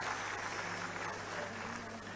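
Faint, distant applause from a large audience at a public speech, a steady dense patter of clapping that runs evenly through the whole moment without any voices.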